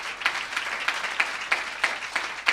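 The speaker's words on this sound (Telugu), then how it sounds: "అది కొట్టు చప్పట్ల బిగరగా, కొట్టు బిగరగా చప్పట్ల." Congregation at a church family blessing meeting clapping loudly, with sharp periodic bursts of hand claps roughly every third of a second over a steady crowd background.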